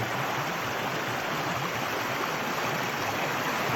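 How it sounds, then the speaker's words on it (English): A stream rushes steadily at a water crossing on a hiking trail, making dense, continuous broadband splashing and gurgling close by. No voices are present. "this is one of the first water crossings"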